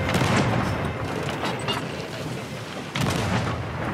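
Deep booming cannon fire rolls through a pirate ship battle in the video game Sea of Thieves, with dense rumbling blasts and a fresh loud boom near the end, no talk.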